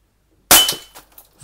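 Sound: Umarex Beretta Px4 air pistol shot hitting a cup

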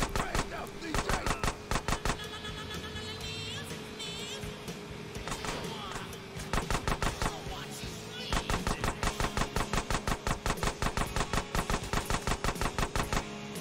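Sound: gunfire in video game GTA San Andreas remaster

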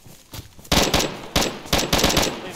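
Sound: gunfire in a video game

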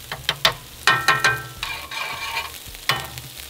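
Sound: bratwurst sizzling on a grill

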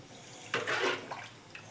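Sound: water being poured into cooking pot

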